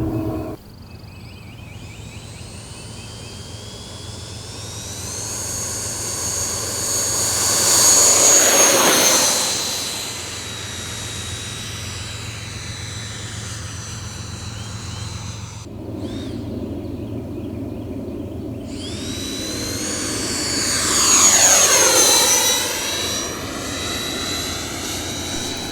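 Twin 80mm electric ducted fan jets on a Freewing F-14 Tomcat model aircraft whine loudly past twice, each pass swelling and then dropping in pitch as it flies by, over a steady background hum.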